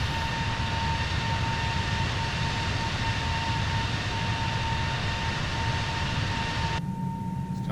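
An Airbus A320neo's jet engines roar at takeoff in an Xbox flight simulator, a loud, steady broadband rumble with a thin whine that cuts back sharply near the end.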